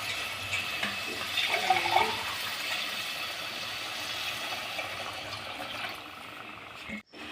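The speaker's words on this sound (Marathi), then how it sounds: "त्यात 2 ग्लास पाणी टाकू" Two glasses of water are poured into a pan of potato curry for puri bhaji, a steady splashing gush that lasts several seconds, then fades, followed by a brief knock.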